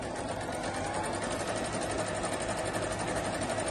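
A Brother sewing machine runs an overlock stitch with a quiet, steady, rapid whirring and rhythmic mechanical ticking, heard alone and close.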